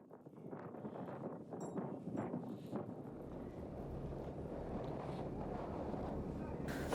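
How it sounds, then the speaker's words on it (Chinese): Strong wind buffets the microphone as a low, rumbling roar that builds and holds after a few seconds of faint talk at the start. "这个风向一直是对着你吹，很难受，很难受。"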